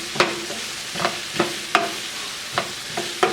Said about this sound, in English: We'll just stir this up nice.